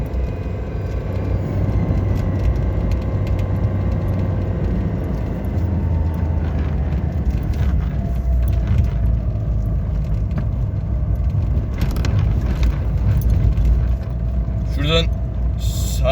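Father's car driving at night, a steady low engine and road rumble from inside the cabin, constant throughout, with a person talking over it and a brief rattle near the end.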